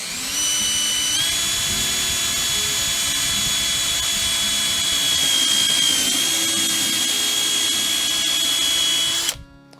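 A power drill bores through a wooden garden tool handle in one continuous high whine, steady and close for nearly ten seconds before it cuts off abruptly.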